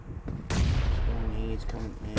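Explosions and gunfire in a competitive online shooter match: a sharp loud blast hits partway through, followed by sustained rumbling booms and scattered shots, with faint voice-like tones underneath.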